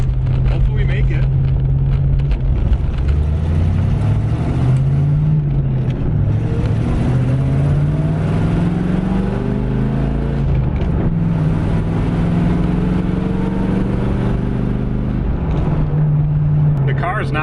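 An IROC-Z with a swapped engine and leaking exhaust rumbles steadily while cruising, its low drone wavering in pitch as revs rise and fall, heard loud and close from inside the car.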